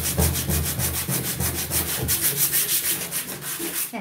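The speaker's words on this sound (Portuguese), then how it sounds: "Eu tô usando uma lixa 100, que é uma lixa que não é muito grossa, tá? Para pintar, para lixar isso aqui." A sheet of formica is sanded by hand with 100-grit sandpaper in loud, close, rhythmic back-and-forth scratchy strokes that repeat steadily with no pauses.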